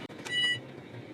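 A kitchen timer beeps once in a short electronic tone while raspberry fairy cakes bake, over a quiet room background.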